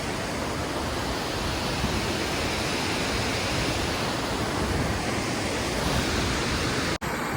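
Rushing, overflowing water near Jog Falls, by a bridge, pours as a loud, steady broadband roar, close and unbroken throughout, with a brief dropout near the end.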